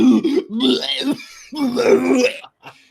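A voice imitates a group coughing, producing a run of rough, throaty coughing and hacking sounds in bursts, close and fairly loud.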